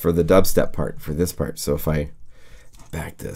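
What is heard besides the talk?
None of the usual background noises is heard.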